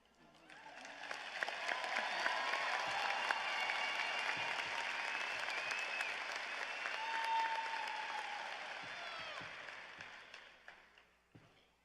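A graduation audience at a cyber charter school commencement breaks into applause that swells in, holds strong and full for most of ten seconds, then tapers off, with faint cheers mixed in.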